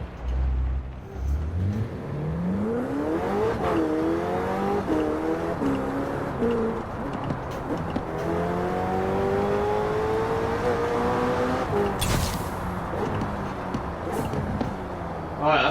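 McLaren 600LT driven in Forza Horizon 4, its engine climbing and shifting through gears in repeated rising revs, loud and close, with a sharp burst of noise near the end.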